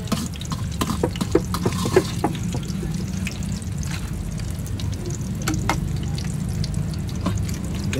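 Martabak filled with beef intestine fries in hot oil at a street food stall in Gresik, making a continuous loud sizzle with crackles and spatula clinks close by, and no talk over it.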